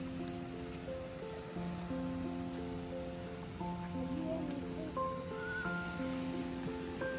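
A goat kid bleats several times in quick, wavering calls near a lagoon beach in Lakshadweep, with steady surf and waves washing underneath throughout.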